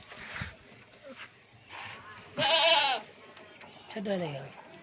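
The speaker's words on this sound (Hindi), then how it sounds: "ये एक बकरा है, ये बकरी है और ये दो बच्चे हैं साथ में।" Adult goats and two young kids of a colourful Abluk breed, offered for sale, bleat in short calls spread through the clip, one loud nearby bleat standing out, with someone talking over them.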